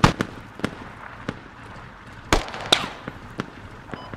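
Gunshots in the military shooter game Squad: several sharp, irregularly spaced cracks, with a couple of louder bursts in the middle over a low background rumble.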